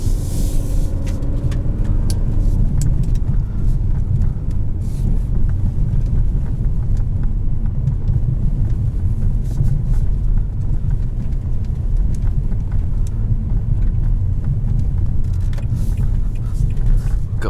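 A 2021 Nissan Altima Platinum 2.5 AWD rolls over road bumps, heard from inside as a continuous low road rumble with scattered soft thumps and knocks, no voices.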